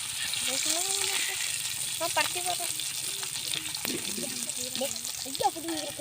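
Fish fries in a pan with a soft, continuous sizzle and crackle. Voices talk over the sizzling throughout, nearby and at moderate volume.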